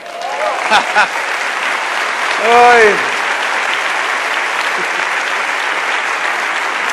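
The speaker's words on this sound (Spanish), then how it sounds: "¿Cuántos locos le dan un aplauso al Señor?" A church congregation applauds throughout, a broad steady clapping under a preacher's voice and shouted exclamations that rise briefly above the crowd.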